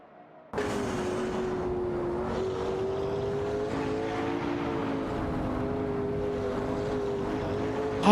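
Race cars in an AI racing video game roar in after a quiet start, a loud continuous engine drone holding steady pitch with slight rises, with no talk over it.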